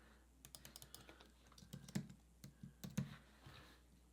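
Fingers tap out a short run of keystrokes on a computer keyboard, quick clustered clicks with a few heavier key strikes, close and quiet with no talking.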